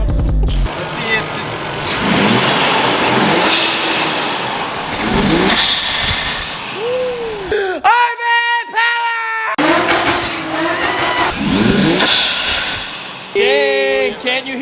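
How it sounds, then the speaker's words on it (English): A Nissan R32 Skyline fitted with a new exhaust idles and revs up in a loud, close burst, with people talking over the engine. "fire it up, give her some gas, make the red line bounce."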